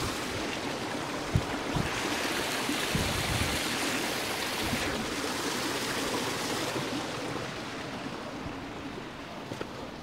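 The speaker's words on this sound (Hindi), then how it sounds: "ये है कुदरती और चश्मे का पानी" Natural spring water from a chashma flows steadily, a continuous broadband rush and trickle that stays even and close throughout with no voices.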